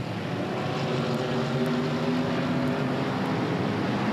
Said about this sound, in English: They sound even better without mufflers, Don.